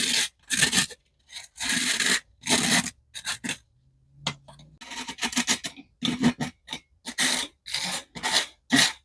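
Clumpy dried pasta-sauce powder being rubbed through a sieve, close-up, heard as repeated gritty rasping strokes in short bursts separated by brief pauses, with no talking.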